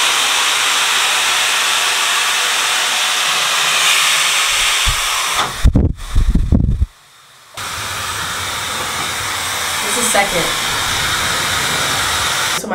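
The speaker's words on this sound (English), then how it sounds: "there's a cool button as well, so you can do a cool blast while you're blow drying" A hair dryer blows with a loud, steady hiss close by. Partway through there is a burst of clattering handling noise and then a brief quieter drop before the blowing resumes.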